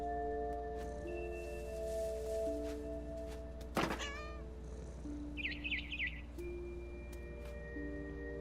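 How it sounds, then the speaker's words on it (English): A frightened bird in the video game What Remains of Edith Finch gives a short burst of high, rapid chirps midway, heard against a steady hum of game ambience and a few softer tones. "I tried to be quiet, but the bird was really scared"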